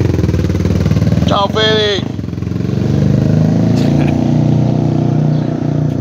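A Suzuki DR350 motorcycle, freshly repaired at a workshop, pulls away with a loud, steady engine drone that holds after a short spoken farewell.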